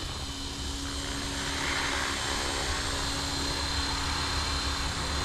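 An Align T-Rex 450 RC helicopter flying outdoors in a light wind gives a steady, loud, continuous rotor and motor whine with a sustained tonal hum and no pauses.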